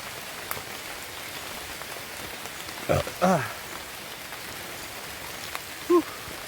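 Steady heavy rain hiss fills the scene throughout, with a few brief louder thumps and knocks breaking through near the middle and end.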